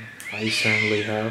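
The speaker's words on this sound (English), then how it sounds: "Sorry about the cats out there, they're going crazy, I guess." Cats meowing and caterwauling outdoors, a drawn-out wailing cry rising and falling over about a second, heard under a man's speech indoors.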